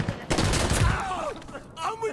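Rapid pistol gunfire in the tactical shooter game Insurgency Sandstorm, several quick overlapping shots in a dense burst followed by fainter game sounds and tonal effects, with no one speaking.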